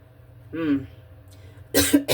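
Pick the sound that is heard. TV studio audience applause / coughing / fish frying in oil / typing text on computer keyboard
coughing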